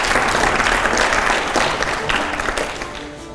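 Sustained applause from a live audience, with many hands clapping steadily and loudly close by. A faint murmur of the crowd sits beneath the clapping, which fades slightly toward the end.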